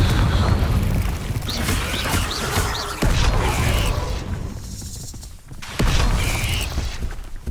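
Fiery Confringo spell blasts in Hogwarts Legacy on PS5, a dense run of booming, crackling impacts and rumbling layered with mechanical clatter, loud and continuous with repeated heavy hits around midway and near the end.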